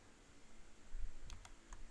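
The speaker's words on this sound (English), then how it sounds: "undo by pressing Control and Z on your keyboard" A few sharp keyboard key clicks, two quick taps close together then one more, over low background hum.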